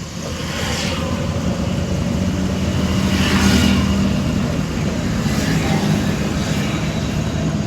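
A car engine hums steadily while the car drives in third gear at around 30 to 35 km/h, a loud continuous drone with a slight swell in the middle and road noise throughout.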